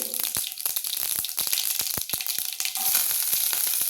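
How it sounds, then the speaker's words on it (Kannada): Mustard seeds and cumin frying in hot oil over a low flame, with dense sharp popping and crackling over a continuous sizzle, close and lively throughout. "ಎಣ್ಣೆ ಹಾಕಿದ್ದೆ, 2-3 ಸ್ಪೂನು ಸಾಸಿವೆ, ಜೀರಿಗೆ, ಸಣ್ಣ ಉರಿಯಲ್ಲಿ ಇಟ್ಕೊಳ್ಳಿ."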